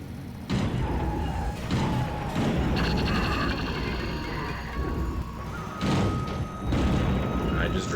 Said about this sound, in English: I just drove through a cab.